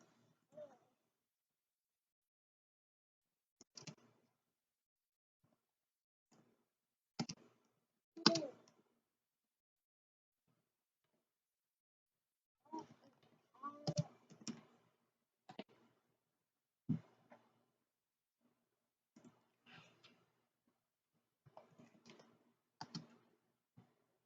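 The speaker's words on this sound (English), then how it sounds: "Let me go ahead and type to you guys." Someone types on a computer keyboard in short, scattered bursts of quick clicks separated by quiet pauses, close and fairly soft, with no talking.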